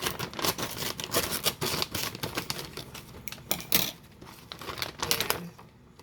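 Scissors snip and crinkle through a paper seed package, a rapid run of close, crisp cuts and rustles with brief pauses, no voices over it.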